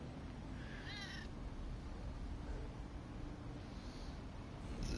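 Cat in the video game God of War Ragnarok gives a single short, rising meow over a steady low ambient rumble, with no voices.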